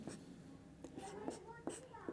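Short scratchy strokes mark a board or paper during a coordinate geometry lesson, faint and close, in a quick uneven rhythm mixed with soft, low talk.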